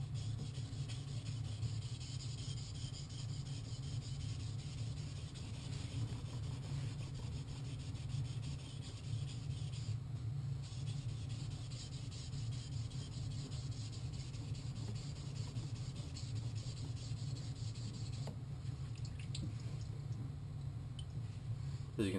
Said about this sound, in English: So now we're going to go ahead and sharpen the secondary grind, which we're not really sharpening, we're thinning the secondary grind.